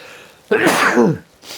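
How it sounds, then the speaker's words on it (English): A single loud, close sneeze bursts out after a brief quiet moment, followed by a short breathy exhale. "Excuse me, about to sneeze"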